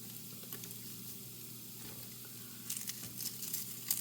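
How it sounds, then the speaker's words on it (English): Crumbled bacon sizzling softly in a pan, a steady quiet fry with faint pops and crackles, getting a little busier near the end. "now I'm just gonna do bacon like that, crumble into the pan."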